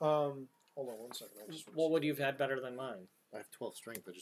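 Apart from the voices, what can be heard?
None of the usual background noises is heard.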